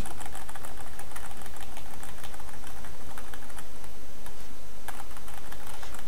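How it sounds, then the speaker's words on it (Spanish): Rapid clacking of computer keyboard keys during a GTA San Andreas gaming session, a dense, steady stream of close, crisp key taps with occasional louder strikes, over faint game background noise and no speech. "Sé que estáis oyendo las teclas del... Del... Del teclado"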